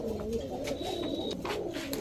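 A pair of high flyer green-necked pigeons coo softly and steadily, close by, with a continuous low murmuring call.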